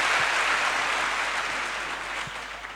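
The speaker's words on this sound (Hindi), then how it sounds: "मजा आ रहा है तो हाथ खड़ा करो, ताली बजा दो" At a youth motivational conference in Rajasthan, a crowd claps steadily in a dense, even wash of applause that fades slightly toward the end.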